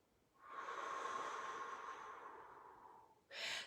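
A single slow, steady exhale through rounded O-shaped lips, a soft airy rush lasting nearly three seconds, close and quiet, followed by a brief sharper breath at the end.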